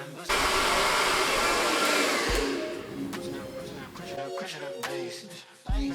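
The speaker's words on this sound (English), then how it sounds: "I'm gonna take my blow dryer. This is the Baby Bliss Pro." A BaBylissPRO blow dryer starts and runs loud and close with a steady broadband whoosh, then drops slightly as it is moved around while someone handles hair nearby.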